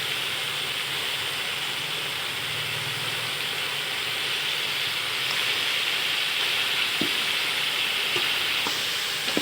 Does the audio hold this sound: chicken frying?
yes